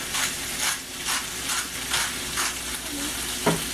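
Ingredients seasoned with salt sauté in a pan, giving a steady sizzle broken by rhythmic bursts of scraping and stirring about every half second. A small clack comes near the end. No voices.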